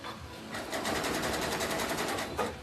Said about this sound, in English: all I'm doing is sewing a bit and then lifting the pressure foot up